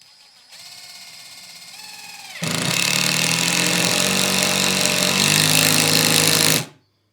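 Hercules HD81B impact driver runs with a faint whir, then breaks into a loud, continuous rattling hammer for about four seconds before stopping abruptly, close up.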